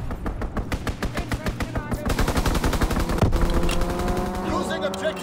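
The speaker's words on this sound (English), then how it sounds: "Fighter pilot inbound, strafing the target." A fighter plane strafes the ground in the Call of Duty: WWII game on the Shipment 1944 map in domination mode. Loud, rapid machine-gun fire runs continuously and thickens into a dense barrage near the end.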